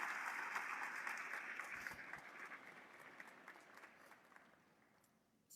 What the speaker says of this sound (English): Please take a moment to recognize the incredible work of our dedicated teachers and staff with a well-deserved round of applause.